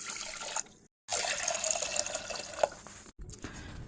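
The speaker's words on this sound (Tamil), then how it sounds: "இன்னும் கொஞ்சம் தண்ணி ஊற்றிக்கலாம்." Water poured into a pot of rice for an oil-free fasting porridge, a steady splashing, trickling pour at close range with a brief pause partway through and no talk.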